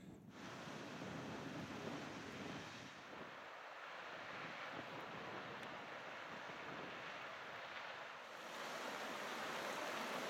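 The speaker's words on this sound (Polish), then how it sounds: "Takich wodospadów jest tutaj mnóstwo" A waterfall in Iceland roars as a continuous broad rush of falling water, steady and fairly distant, mixed with wind buffeting the microphone.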